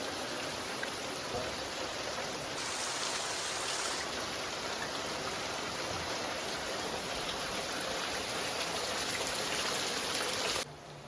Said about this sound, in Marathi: बघा पाऊस थांबायचं नाव नाही घे